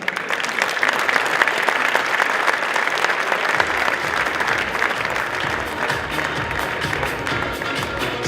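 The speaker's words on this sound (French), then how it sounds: "Je vous demande d'applaudir Monsieur Stéphane Sarrazin." Sustained audience applause fills a hall at a 2014 regional sports awards ceremony, steady and dense throughout, with the low rumble of the crowd shifting partway through.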